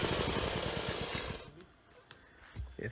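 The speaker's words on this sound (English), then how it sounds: "that diesel bad boy gets started again and drilling commences" A diesel drilling rig engine runs on open land in the Philippines, a loud, rapid mechanical chugging that cuts out halfway, leaving faint scattered knocks and rustles.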